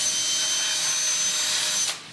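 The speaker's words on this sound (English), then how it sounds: "when you start the drill and push, this collar recedes and the drill bit comes out the end" A drill fitted with a self-centering bit with a retracting collar bores a pilot hole in wood, a steady close whirring grind lasting a couple of seconds before stopping abruptly.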